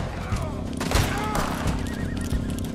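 A horse in Red Dead Redemption 2 lets out a loud, close whinny amid gunfire and game ambience, with a voice speaking over it.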